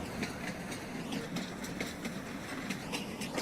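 Train rolling along in the video game Farming Simulator 19, a steady rumble with regular clickety-clack beats from the wheels over rail joints, moderately loud and continuous.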